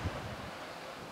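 Ocean waves wash on the shore near Bawdsey Manor as a brief, steady rushing surge mixed with wind buffeting the microphone.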